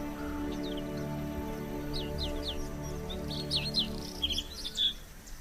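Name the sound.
rare songbirds singing in reed beds at bird sanctuary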